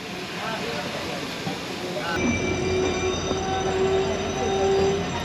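A Sundarban Express train runs near Rajbari station, giving a steady rumble of wheels on the track with a sustained high metallic squeal. A voice speaks faintly under the noise.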